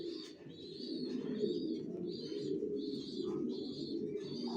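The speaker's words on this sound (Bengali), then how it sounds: "আমার লফটে বিভিন্ন প্রাইজের কবুতর আছে" Racing pigeons in a loft coo in a steady low murmur of overlapping calls, with soft chirps and higher notes popping up intermittently, fairly quiet and close.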